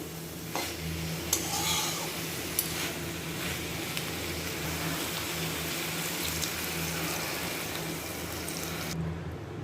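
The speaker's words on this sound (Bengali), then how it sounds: "এখন সামান্য জল দিয়ে দিব" Water splashes steadily into a pan of Malabar spinach cooking down in a village kitchen, a continuous close wash of pouring and light sizzling with no talk.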